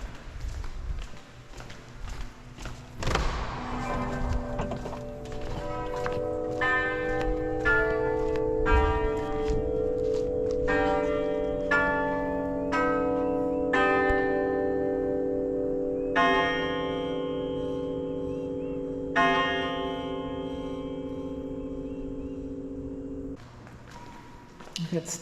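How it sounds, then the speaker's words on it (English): Bells ring out at the Stephen Foster Folk Culture Center, a sustained series of tuned chimes playing a melody with overlapping, lingering tones, fairly close and steady for over twenty seconds before stopping. "The bells are ringing."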